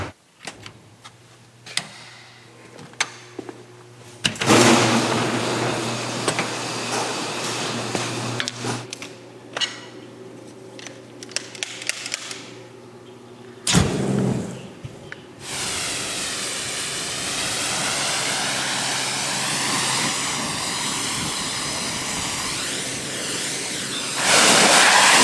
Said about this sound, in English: Now we get the power wash.